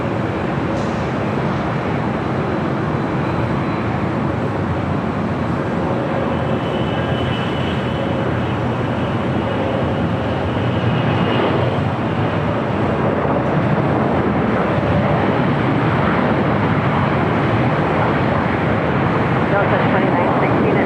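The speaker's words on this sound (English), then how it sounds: "Flight coming in from Newark" A jet airliner arriving at LAX on a flight in from Newark, heard as a loud, steady broadband roar that holds throughout and swells slightly toward the end.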